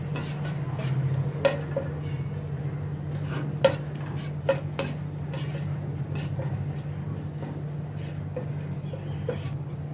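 Crushed coriander seeds roasting in a pan: a faint continuous sizzle under a steady hum, with light scraping and occasional clinks of a spoon against the pan.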